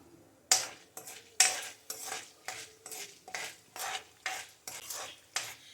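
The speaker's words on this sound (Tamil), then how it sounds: "ஃப்ளேமை கொஞ்சம் குறைச்சி வச்சுட்டு இதை நம்ம ஃப்ரை பண்ணிடலாம்" Cashew nuts fry in a pan for beetroot rice while a spoon stirs them, making about a dozen evenly spaced scraping strokes with a faint sizzle underneath, close and moderately loud.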